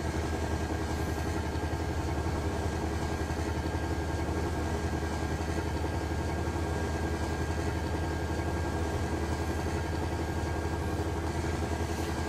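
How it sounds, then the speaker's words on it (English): A Scania truck engine idles steadily in Euro Truck Simulator 2, with a constant low hum and drone, unchanging throughout, with no voices. "the unmodded sound is just basic Scania engine sound"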